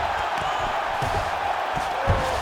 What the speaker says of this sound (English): So the crowd absolutely loving it